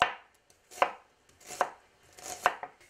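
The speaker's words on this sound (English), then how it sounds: "Thinly sliced onions." Knife slicing onions thinly on a cutting board, four crisp separate strokes spaced evenly and close up, with no talking.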